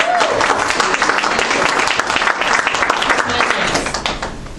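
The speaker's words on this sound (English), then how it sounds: "we got to give Brittany a round of applause" Sustained applause at a meeting, a crowd of hands clapping densely indoors and fading slightly toward the end.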